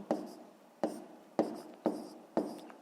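A pen writing on paper during a fifth-grade maths exercise: five short, crisp scratching strokes at a steady rhythm, close and quiet, with no talk.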